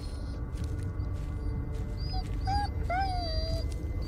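A dog whimpers in the horror video game Blair Witch, a few thin, wavering whines rising over a steady low rumble of ambient game noise.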